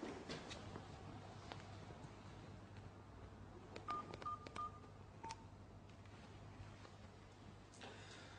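A telephone dialed to call an ambulance from inside a shop: a short series of faint beeping dial tones against quiet background noise.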